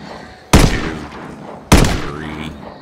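Two loud rifle shots ring out in the zombie survival game Project Zomboid, each a sharp, close crack with a decaying tail, spaced about a second apart against a quiet background.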